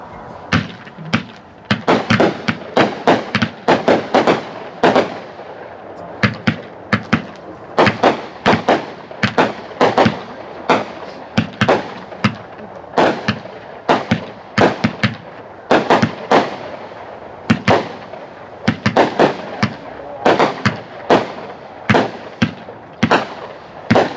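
A Hot Shot Right to Bear Arms 30-shot 500-gram firework cake fires a long volley of sharp booming reports, loud and close, in irregular bursts with brief gaps over the whole stretch.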